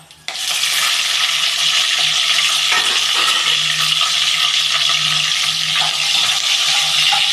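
Green chillies fry in a hot pan for vegetable fried rice, giving a loud, steady hiss and crackle that starts abruptly as they hit the oil, with faint stirring scrapes running through it.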